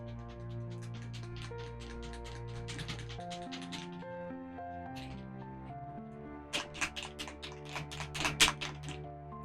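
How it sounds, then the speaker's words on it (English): A metal ball bearing rattles inside a shaken bottle of paint, a rapid burst of light clicks under steady background music. A louder, more irregular flurry of clicks follows later. "So these bottles have a nice little ball bearing in them. And you will hear that clicking away as I shake it."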